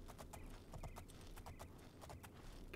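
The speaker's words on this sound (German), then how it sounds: "Wir reiten ein Einhorn." Hoofbeats of a unicorn being ridden in the video game The Elder Scrolls IV: Oblivion, a steady clip-clop over a constant background bed of game ambience.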